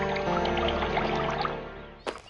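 Water pours in a steady, continuous stream in an animated fairy-tale scene. It runs close and full over a sustained tonal backdrop, then ends with a short splash near the close.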